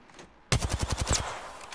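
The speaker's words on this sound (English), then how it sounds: "The damn snipers. They're shooting at us from up there." Sniper gunfire in Apex Legends: after a short quiet lead-in, a sudden loud burst of about six rapid shots rings out, then fades into echoing decay.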